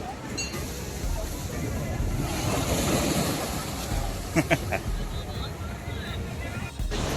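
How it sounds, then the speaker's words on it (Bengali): Rough monsoon sea surf at Digha beach washes in a steady, windy roar, with a couple of brief knocks partway through. "ঢেউ উঠছে।"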